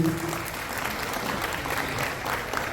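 Audience applause at a Tamil comedy debate forum, a steady wash of many hands clapping together, moderately distant and sustained throughout without talk over it.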